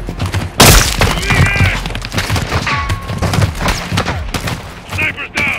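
Gunfire rattles loudly and close in a Call of Duty: Modern Warfare 2 cartel shootout in Mexico, opening with a sharp blast and then running as irregular bursts with shattering impacts, while voices shout over the fighting.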